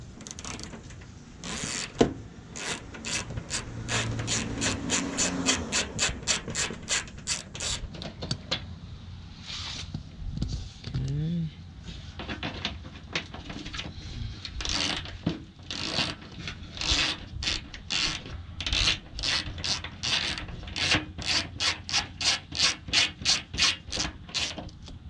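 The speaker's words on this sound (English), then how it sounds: "we gotta take out the inner fender liner" Removing the inner fender liner from a Mazda Miata during a Rocket Bunny body kit install, heard as long runs of rapid ratcheting clicks and scraping rubs of plastic, close and steady, with a quieter fumbling pause in the middle.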